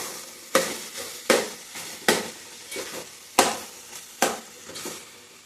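Shredded cabbage and carrot frying in a pan, with a steady sizzle broken by about seven sharp, regular scrapes and tosses as a utensil stirs the vegetables, heard close up.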